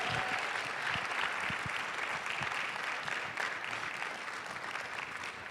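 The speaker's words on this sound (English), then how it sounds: "Let's give this group one more big round of applause." Sustained applause from a gathered congregation for a group of students at a Sunday Bible class, steady dense clapping throughout with no talking.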